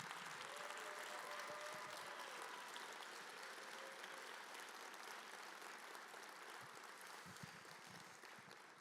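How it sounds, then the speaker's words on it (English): Audience applause fills a recovery-services event hall, a dense, steady wash of clapping that holds evenly for nearly nine seconds before tapering slightly, with faint murmurs underneath. "Can we give those folks an incredible round of applause as well?"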